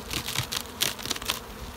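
Honey bees buzz inside a hive in a continuous, fairly close drone with slightly rising and falling swells, heard alone without any talking.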